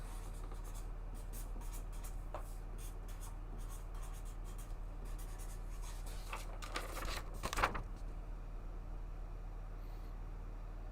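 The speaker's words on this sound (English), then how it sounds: "I could write it on paper." A pen scratches across paper in a quiet room, a steady faint scribbling over low electrical hum, with a brief louder rub near the end.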